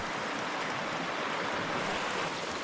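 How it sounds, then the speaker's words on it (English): High, fast river water rushing steadily below a mountain cabin, too deep to wade across, with snow on the peaks above; a dense, continuous roar of close, loud water that never lets up. "The water's too high, I can't cross."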